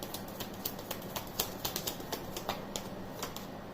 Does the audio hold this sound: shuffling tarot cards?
yes